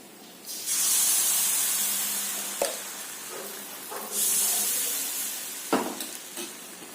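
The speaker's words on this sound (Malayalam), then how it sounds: "ഇനി നമുക്ക് ഇതിലോട്ട് മാവ് കോരി ഒഴിക്കാം." Palappam batter ladled into a hot appam pan, hissing and sizzling loudly in two long bursts, with sharp clinks of the ladle against the pan between them and no talking.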